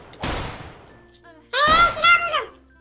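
Gunfire from a gun in Minecraft: a sharp shot burst, then a second louder volley with ringing tones, while young players talk excitedly.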